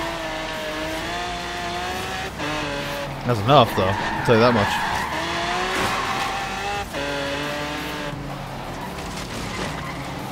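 A twin-turbo V12 car in the Forza Horizon 3 racing game roars steadily at high revs, with tires squealing and skidding in a burst midway while a person talks over it.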